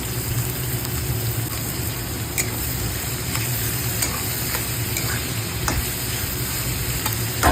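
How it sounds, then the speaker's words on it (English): Onions sizzle steadily in hot oil for fried rice, a dense continuous frying hiss close up, broken by occasional sharp clicks and scrapes of stirring. "this onion will be fried in the oil till it turns brown"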